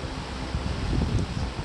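Steady rushing airflow from a BLDC table fan running at high speed, a broad close whoosh with slight fluttering and no voices.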